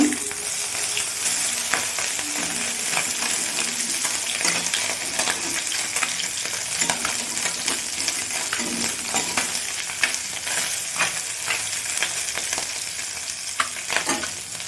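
Small bali tengra fish frying in oil, a loud, close, continuous sizzle and crackle with occasional sharp spits and light clinks of a utensil.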